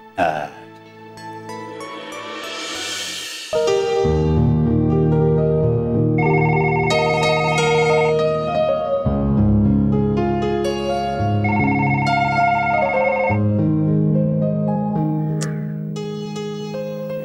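A telephone rings with a repeating electronic ringtone melody that carries on for several seconds amid background music, moderately loud.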